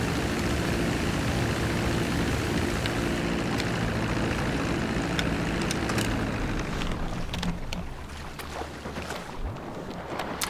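Mammoth Dodo seaplane from GTA 5 Online, its propeller engine droning steadily and loud for most of the stretch, then thinning out toward the end as the engine noise drops away.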